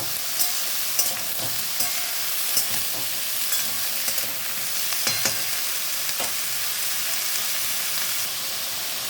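Bottle gourd greens and vegetables frying in a hot pan make a steady, close sizzle, with light clicks and scrapes as they are stirred throughout.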